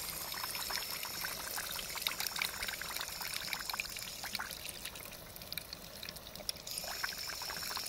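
A vintage Crane drinking fountain runs continuously with a steady, close splashing pour and faint trickling, no voices over it.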